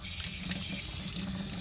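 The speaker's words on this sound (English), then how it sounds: "It allows air into the tank, pushes out the water that's in it." Water drains steadily out of a household water heater tank with a continuous rushing, gurgling flow, close and fairly quiet, with no talk.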